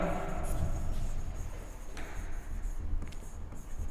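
Marker or chalk writing on a board in a chemistry class, a soft continuous scratching and rubbing of strokes heard close, with no talking over it.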